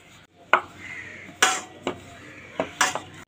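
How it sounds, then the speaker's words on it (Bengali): A knife cutting rolled, oiled and floured dough into thin strips on a board: a handful of sharp, separate knocks spaced unevenly over a few seconds, close and fairly loud. "এইভাবে সরু সরু করে কেটে নিতে হবে"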